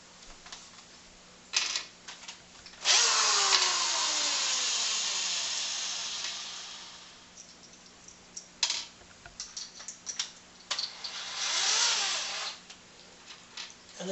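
A power drill drives short screws into wood, giving two long whirring runs with pitch that rises and falls. Quieter clicks and handling taps fill the gaps around them.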